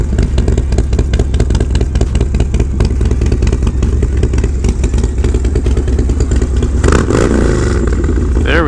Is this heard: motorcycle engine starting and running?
yes